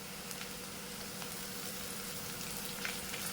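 Carrot fry with curry leaves sizzles in hot oil in a pan, a continuous low crackling hiss with a few small pops, steady and fairly quiet, no voices.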